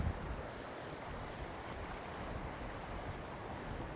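Steady broadband wind rushes and buffets the microphone beside the River Tweed during fly fishing, a constant, fairly loud roar with no voices.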